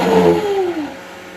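Homemade drilling machine built around a 775 motor switching on with a short whir whose pitch sweeps as it spins, loud and close.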